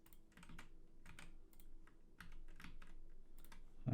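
Quiet, close typing on a computer keyboard, with irregular bursts of soft key clicks across a few seconds and a louder knock at the very end.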